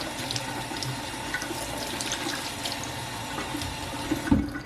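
Grape tomato seeds rinsed under running tap water, a continuous close splashing stream into a sink with a brief clunk near the end.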